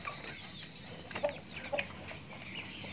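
Young Umbaran chickens around two to three months old cluck softly in a backyard coop, a few faint scattered clucks over quiet background noise.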